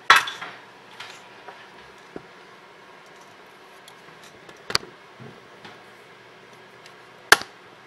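A metal cake pan being handled while making a checkerboard cake gives a few sharp clanks and taps, spaced seconds apart, over a quiet background.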